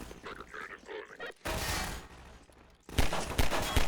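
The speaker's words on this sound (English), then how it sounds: "The pulse rifle." Pulse rifle bursts in Half-Life 2, a rapid crackling volley followed by a louder, denser stretch of repeated shots, close and harsh, with a brief quiet break between bursts.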